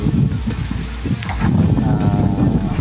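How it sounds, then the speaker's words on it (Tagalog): Strong wind at a highway bypass construction site buffets the microphone in a steady, loud low rumble that never lets up. "kusog kayong hangin no"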